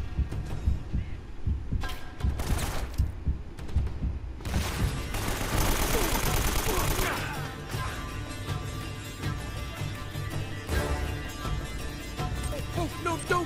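Gunfire in the video game Uncharted: Drake's Fortune, with rapid rattling bursts and thumps layered over dense game music and combat noise, loud and continuous throughout.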